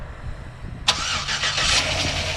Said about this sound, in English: There's the remote starts